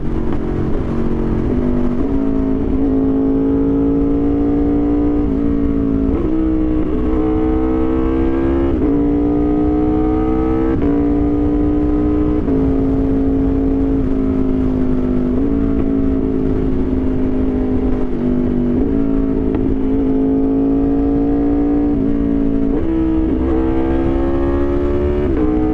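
A 2023 Aprilia RSV4 Factory superbike pulls hard in third gear, its engine roaring loud and close with a rising, wavering pitch, repeated throttle surges and dips running continuously for about twenty-five seconds without talk.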